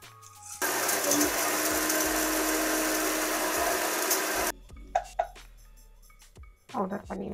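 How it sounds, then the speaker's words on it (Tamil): A mixer grinder whirs loudly and steadily for about four seconds as it grinds roasted dry spice ingredients, then cuts off abruptly, followed by a few close knocks and clatters of the jar. "இப்போ இந்த ட்ரை இன்க்ரீடியன்ஸ் எல்லாம் அரைச்சி எடுத்துக்கலாம்"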